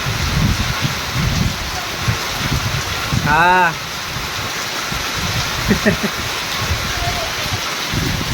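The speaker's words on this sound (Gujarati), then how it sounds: "હા બહુ જ આવ્યો પવન ને વરસાદ." Heavy rain driven by wind pours down steadily and close, with gusts rising and falling; a person speaks briefly over the downpour.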